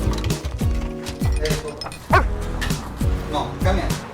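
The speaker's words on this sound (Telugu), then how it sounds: "కుక్కని తెచ్చుకున్నావు అబ్బాయి" A puppy barks, yips and whimpers in short repeated bursts close by, with a sung melody playing underneath.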